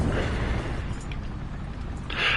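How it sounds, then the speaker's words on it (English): Low rumbling explosions and detonations in the War Thunder tank battle game, a heavy sustained boom fading into a distant rumble with a brighter burst near the end. "Explosions. Detonation."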